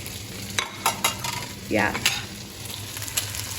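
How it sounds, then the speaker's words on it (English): Meat frying and being stirred in a pot for lamb stew, with steady sizzling under repeated scraping stir strokes and one louder burst of sizzle midway; a brief word is spoken. "fry it a bit, and then I'll add my onions, finely chopped"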